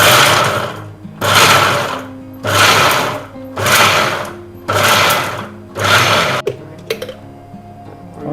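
A mixer grinder pulses a chickpea falafel mixture in six loud, even bursts of roughly a second each, separated by short pauses, followed by a few faint clinks as the jar settles.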